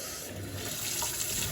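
Hot water runs from a tap as items are rinsed, a steady, close, hissing flow.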